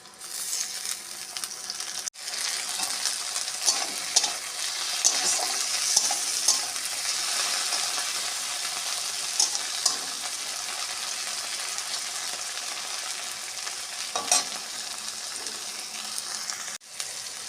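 Chopped tomato fries with onion and green chilli in a pan, giving a long steady sizzle with occasional stirring scrapes and small clinks; no one talks.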